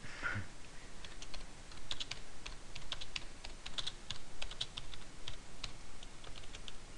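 Steady computer keyboard typing while code is entered into a program, a quick run of close, crisp key clicks with no voices.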